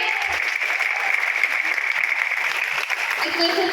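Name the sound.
audience applause at a speech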